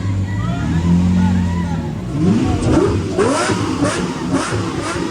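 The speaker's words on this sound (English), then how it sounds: "You keep revving it like that and you ain't gonna go anywhere." A Lamborghini Murcielago's engine revs loudly nearby, rising through several throttle pulls, while people talk and shout in the background.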